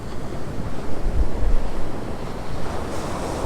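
Steady wind and breaking surf at sea during fishing in a post-storm swell with 10 to 12 knot winds, a continuous broadband roar of waves and wind buffeting the microphone, with no voices.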